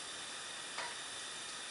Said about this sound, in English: when it's had a minute or two of sizzling